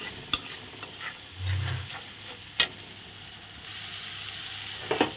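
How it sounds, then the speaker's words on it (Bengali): Coriander and chilli powder fry in a pan with a steady sizzle, punctuated by a few sharp spatula knocks and scraping stirs, close up with no talk. "ধনিয়া গুঁড়ো আর লঙ্কা গুঁড়ো দিয়ে ভালো করে কষিয়ে নেব।"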